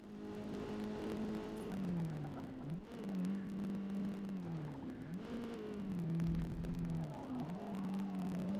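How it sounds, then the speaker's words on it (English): Engine note of a car in Forza Motorsport, loud and continuous, its pitch repeatedly sweeping down and back up as the car shifts and accelerates, with no talking over it. "Has anyone owned one of these cars? Do they really sound like this?"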